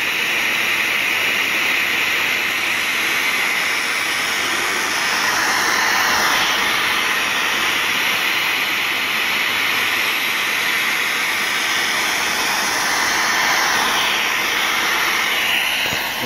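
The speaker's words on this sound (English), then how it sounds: "i kick the vacuum on in a second" A vacuum runs in a workshop during figure skate blade sharpening, a steady, close whooshing roar that holds unchanged from start to finish with no voices.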